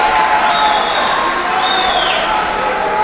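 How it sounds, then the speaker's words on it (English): A boxing arena crowd gives a standing ovation after a fight, a broad, loud, continuous roar of cheering and applause with whistles rising through it. "So a standing ovation here from what has been an electric fight."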